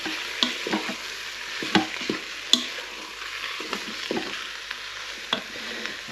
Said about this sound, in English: I'm going to give it a quick stir around.